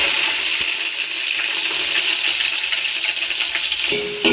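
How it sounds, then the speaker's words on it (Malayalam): Onion, green chillies, ginger and curry leaves are sautéed in hot oil, giving a strong, steady sizzle close to the pan with occasional stirring scrapes and a light clank near the end, and no talk. "സവാള ഇട്ടൊന്ന് വഴറ്റി"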